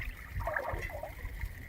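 Water gurgling and trickling as it rises in a clogged toilet bowl after a flush, a faint, short bubbling burble in a bathroom.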